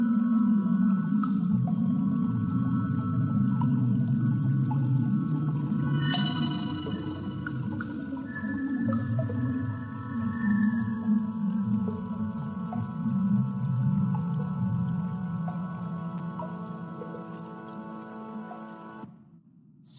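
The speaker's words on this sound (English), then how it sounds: "So this was a sonograph of a jet emitted in the Perseus galaxy cluster." A low, droning, rumbling tone with faint wavering overtones, a sonification of sound waves from the black hole in the Perseus galaxy cluster, plays steadily and then cuts off abruptly near the end.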